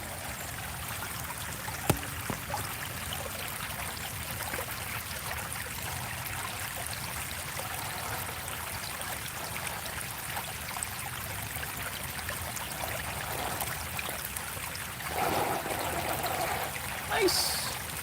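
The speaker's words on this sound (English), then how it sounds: "You guys can hear the water flowing." A creek flows in a continuous broadband rush, steady and fairly close, with a few small splashes near the end.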